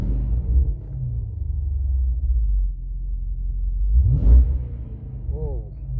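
Dodge 5.7L V8 in a 2006-12 Magnum, Charger or 300 idling with a BBK 85mm throttle body fitted: a low, uneven rumble that swells briefly in a short rev near the end.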